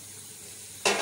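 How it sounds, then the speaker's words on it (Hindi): Black soybeans (bhat) hit hot oil in a pan for roasting: a quiet hum is suddenly cut by a loud, bright, close sizzle that continues to the end. "अब मैं ना इसमें भट डाल दूँगी भूनने के लिए"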